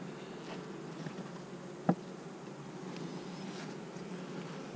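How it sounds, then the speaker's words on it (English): Bees on drone frames inside a hive give a soft, steady buzz that carries low and continuous throughout, with one brief sharp tick partway through and no voices. "A few bees up here sneaking around."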